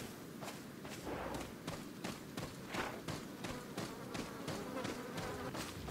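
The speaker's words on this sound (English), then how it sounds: "All these flies everywhere and shit. You can hear them buzzing." Flies buzzing in the Resident Evil 4 video game: a steady droning hum that runs without a break, with faint regular footstep thuds under it and no talk.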